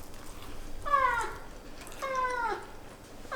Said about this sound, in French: Il y a le chat qui s'invite.